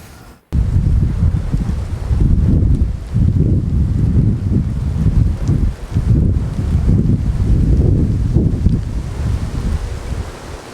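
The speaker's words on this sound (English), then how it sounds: "reduce the noise that the turbines are making" Wind turbines in rural Chautauqua County, New York, give a steady, loud rumbling whoosh with slow pulsing swells, dominated by low-frequency wind-like noise and no voices.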